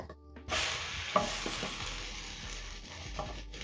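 French toast, savory masala-style, sizzling steadily in a frying pan after being flipped, a continuous close crackling hiss with a brief clink near the start and no talking.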